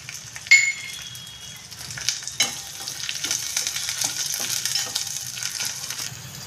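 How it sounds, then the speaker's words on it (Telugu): Chili powder and turmeric frying in hot oil for a taro root curry give a steady close sizzle with scraping stirs, swelling slightly louder midway. "కొంచెం కారం వేగాలి పోపులో, అప్పుడు బాగుంటుంది."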